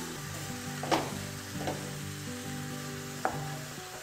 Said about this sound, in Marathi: आता दुधात छान हे किस आपल्याला शिजवून घ्यायचं आहे